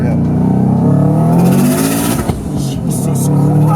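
A Subaru WRX hatchback pulls hard in first gear, its engine note climbing loudly and steadily from inside the cabin while voices react over it.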